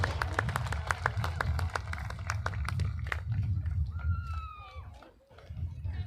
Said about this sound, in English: How about a nice round of applause for our senior Junior Air Force ROTC members.